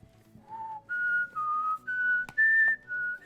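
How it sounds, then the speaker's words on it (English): A person whistles a short stepped melody of about six clear sustained notes, the intro tune of a Rise of Kingdoms game stream, close and alone with faint background. "Watch me get copyright strike for whistling the intro."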